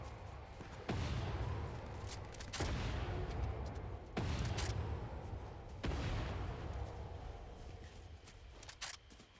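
The explosive Red Eye gun fires in Fortnite, a Zero Build match, with four heavy booming shots at a steady spacing, each followed by a rumbling tail that fills the gaps, with no talking.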